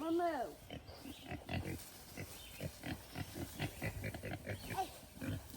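Pigs grunt and snuffle close by in short, uneven bursts, with people talking and laughing over them throughout.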